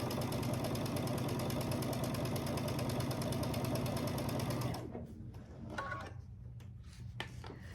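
A sewing machine running a quarter-inch seam on quilt pieces, a fast steady close whirring hum for about five seconds before stopping, followed by quiet handling and fabric rustle.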